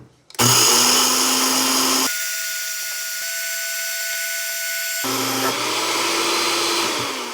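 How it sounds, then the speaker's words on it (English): Blender grinding dry rice into fine powder in a jar fitted with a mason jar cap, a loud steady motor whine that shifts pitch as it runs in several continuous bursts. "Plop that into my blender."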